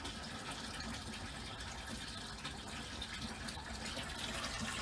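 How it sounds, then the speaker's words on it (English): Water gushes and gurgles steadily as it drains through a bell siphon in a stock tank aquaponics grow bed filled with lava rock, a constant rushing flow heard close up. "But this should suck water all the way down to wherever the bottom of that bell siphon is."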